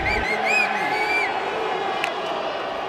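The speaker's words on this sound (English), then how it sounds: "the crowd really trying to get behind Perez now." Arena crowd cheering and whooping at a Karate Combat fight, a dense roar with rising shouts in the first second that settles into a steady, loud crowd din throughout.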